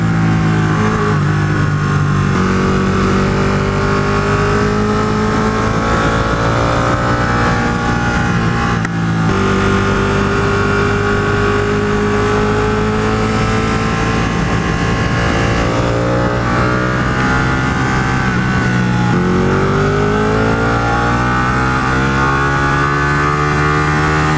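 Sport motorcycle engine revving and growling up through the gears, pitch climbing then dropping with each shift, loud and continuous for a long stretch.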